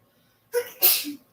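A person gives a single close, sharp sneeze, a quick intake followed by a loud burst, in an otherwise quiet room.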